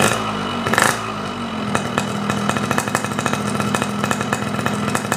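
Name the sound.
two-stroke motorcycle engine revving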